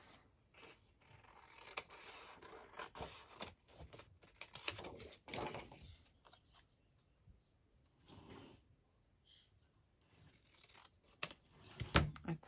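Scissors snipping paper for a handmade collage, scattered sharp cuts and rustles in irregular bursts, close and quiet, with pauses of near silence between them.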